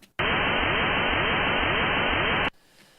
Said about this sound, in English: there's also this, like, kind of white noise or pink noise behind it